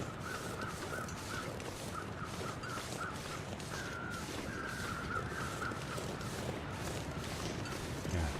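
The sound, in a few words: crows cawing in video game The Long Dark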